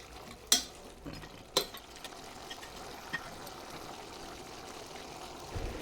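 Country chicken cooks in a pan in a village-style kitchen for nattu kozhi kuzhambu, its juices giving a faint steady sizzle while a spoon stirs, with a couple of sharp scrapes and knocks early on.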